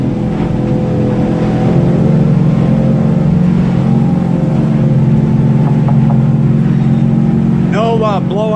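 A 300 hp outboard engine on a boat drones loudly and steadily as it powers out of a tight turn, its deep hum building under a brief voice near the end.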